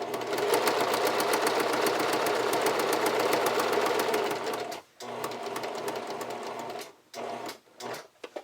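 A sewing machine stitches fabric for underwear panties, running in a fast steady mechanical chatter for several seconds before stopping and then giving a few short bursts of stitching.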